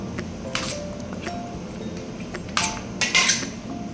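A spoon mixes ginger-garlic paste into raw chicken in a metal pot for chicken khichdi, with soft squelching and a few sharp clinks of metal against the vessel, loudest near the end.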